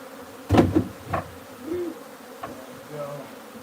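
Bees around a wild beehive being moved into a new home give a few short buzzing bursts near the start, then a fainter low hum and scattered light knocks against quiet background.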